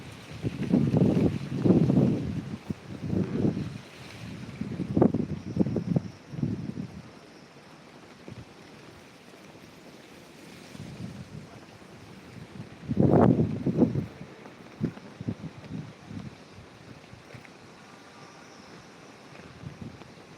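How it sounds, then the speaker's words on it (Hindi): Strong gusts of wind buffet the microphone in low rumbling surges, with quieter stretches between the bursts. "बहुत तेज़ हवा चल रहा है।"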